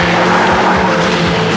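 A rally car in an anime screams at full throttle, its engine loud and close with a steady high roar and a brief tire squeal.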